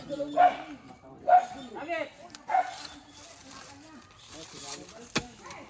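A dog barks three times at a steady pace, moderately close, while people talk over and around the barks.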